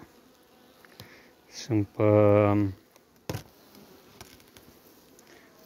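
Honeybees flying out of overwintered nucleus hives, a close buzz with one loud, sustained droning pass over a faint background hum, and a single short spoken word nearby.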